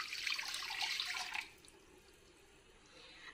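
Water pours steadily into a mixing bowl of flour for ensaymada dough for about a second and a half, a bright splashing stream that then stops, leaving quiet room tone.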